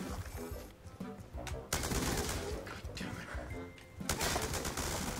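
Rapid gunfire bursts from Call of Duty: Black Ops 2, dense and continuous with sharp louder volleys, mixed with game sound and occasional talk in the background.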